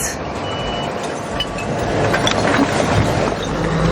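A waste truck at a landfill cell gives out steady reversing beeps, a regular repeating tone heard over a low engine rumble and broad mechanical noise before it unloads.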